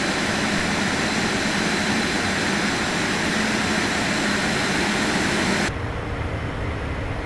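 Steady, loud jet engine roar from a Phenom 300E private jet in the MSFS 2024 simulator, a broad continuous whine and rush that drops abruptly in level near the end.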